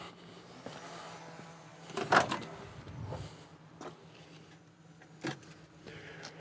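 Car keys jangle close by beside a 1967 Pontiac GTO, a short metallic rattle and clink standing out briefly against a quiet background with a few soft thuds and handling noises.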